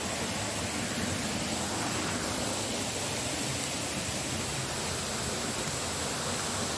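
Creek water pouring through a waterfall and along a steel pipe feeding a ram pump in tropical north Queensland: a dense, steady roar of rushing water that fills the scene evenly and never pauses.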